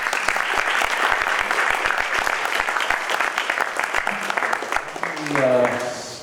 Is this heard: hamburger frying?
no